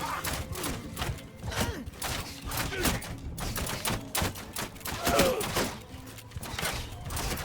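Massed musket volleys crack and thud in a Mount & Blade 2 Bannerlord battle, dense overlapping shots rolling continuously among game battle noise, with some voices underneath.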